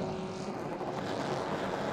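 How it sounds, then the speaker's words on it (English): GT and GTS championship race cars idle and rev on the starting grid at a Toronto street circuit, a steady, somewhat distant engine drone with broadband rumble and wind-like noise, no commentary over it. "Revs are starting to come up."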